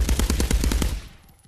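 Rapid automatic gunfire in the Halo VR game, a fast close burst of about ten shots that stops abruptly and fades out.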